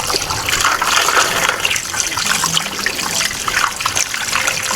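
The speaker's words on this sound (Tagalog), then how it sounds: "Tubig oh, lakas ng tubig nila." Water gushes strongly from a sink tap at a beach campsite washroom, a steady loud rushing splash that fills the clip without letup.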